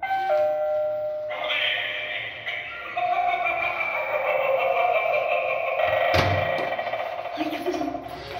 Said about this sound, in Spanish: Mira, ahí hay un timbre. Lo toco.